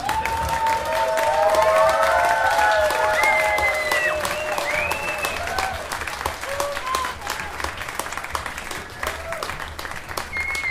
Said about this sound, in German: einen großen Applaus nochmal